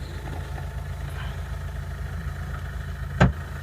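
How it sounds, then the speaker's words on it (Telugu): A Mahindra Scorpio S4+ engine idles smoothly with a low, even rumble, and a single sharp click or knock cuts through near the end. "చాలా స్మూత్ ఉందండి ఇంజన్ కూడా."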